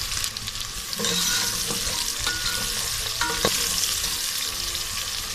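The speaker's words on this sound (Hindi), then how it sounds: "प्याज को भी हम हल्का सा फ्राई करेंगे।" Two large finely chopped onions fry with garlic in a pan while mutton trotters are being prepared, producing a loud continuous sizzle broken by occasional stirring clinks and scrapes.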